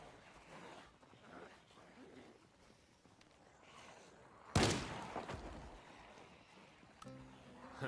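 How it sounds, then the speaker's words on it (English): Miniature shotgun blast fired at zombies in Project Zomboid, a single loud, sharp shot midway through after quiet ambient shuffling, followed by a short decaying rumble. "Who knew shooting a miniature shotgun would be so fun?"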